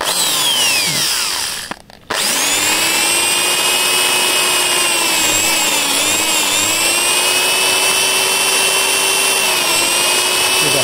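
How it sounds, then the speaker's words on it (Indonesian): A power drill bores into old, very hard wood with a loud sustained whine whose pitch bends as the load changes. It cuts out briefly near the start, then runs continuously close by. "kita bor lagi ya"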